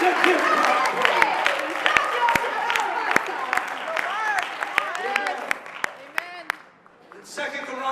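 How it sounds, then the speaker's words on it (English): Church congregation clapping hands in praise during a service, a steady patter of many hands with sharp claps, mixed with raised voices and singing over it. "Clap your hands and give God praise."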